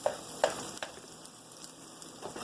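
Food frying in olive oil in a pan on a breakfast stove, a faint steady crackle with a few louder sizzling pops near the start.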